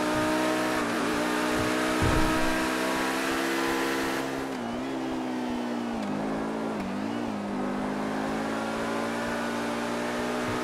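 A Lamborghini Sian in GTA 5 revs and accelerates hard, its engine note climbing through the top end and dipping briefly between gear changes, loud and close with no talk.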